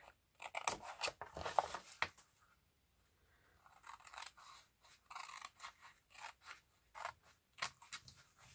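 Scissors snip through paper to cut out envelope pieces, a close, quiet run of crisp cuts in short bursts with a brief pause midway.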